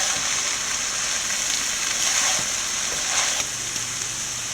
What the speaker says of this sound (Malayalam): ഇനി നല്ലപോലെ എല്ലാം മിക്സ് ചെയ്യുക.